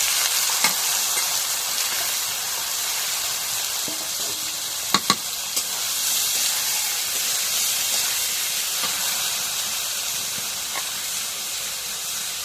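Potatoes sizzle and fry steadily in a hot pan, a loud even hiss with a few small pops and clinks, no talk.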